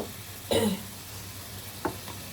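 Bottle gourd greens tipped into a pan of cooked prawns, giving a short loud sizzling burst followed by quieter crackles and one brief sharp hiss.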